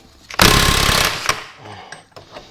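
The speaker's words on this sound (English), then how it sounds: "grab the rattle gun, and then we should be able to send it." An air impact wrench rattles hard on a Classic Mini remote-type gearbox during a rebuild, one loud close burst of under a second followed by quieter workshop clatter and a few small knocks.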